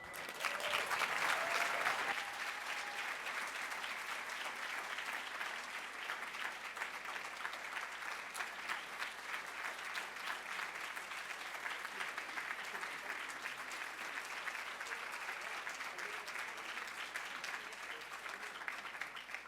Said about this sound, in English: Can we just go ahead and give another round of applause for Mr. James Baden?